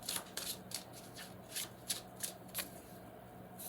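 Tarot cards shuffled by hand, a series of crisp riffling flutters and soft slaps in a quiet room, close and moderately loud with short pauses between bursts.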